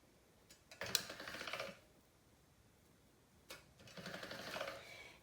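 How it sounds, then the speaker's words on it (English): Polymer clay sheet cranked through a pasta-style rolling machine at a thinner setting, giving two separate bursts of soft mechanical whirring and clicking, each lasting about a second, with quiet gaps between. "I'm going to roll that out to a 3 on my machine instead of a 4."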